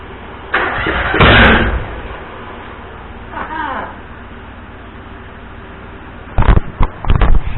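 A Hustler Super Z mower's engine is cranked with the key, with a loud burst of starter whirring, then quieter churning, and short sputtering bursts as it tries to fire near the end.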